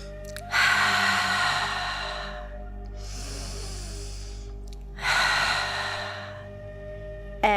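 Slow, audible Ujjayi breaths during a prenatal yoga class: three long, hissing breaths, close and steady, separated by pauses over a soft musical hum.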